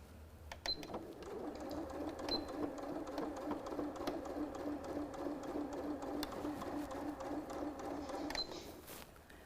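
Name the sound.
sewing machine stitching in the ditch of quilt binding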